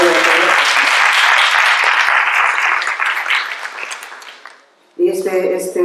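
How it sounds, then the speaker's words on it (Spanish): Audience at a poetry reading breaks into dense applause that swells, then thins and fades out, followed by a speaking voice starting up right after. "yo pido un aplauso para Manuel y que aplaude a todos"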